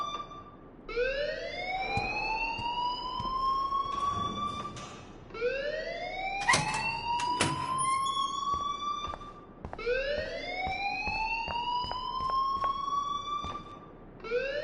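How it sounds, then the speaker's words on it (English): Fire alarm ringing in the video game Life is Strange, with a loud rising electronic whoop that repeats about every four seconds alongside sharp clicks and clatter. "please turn off that alarm since that's your job"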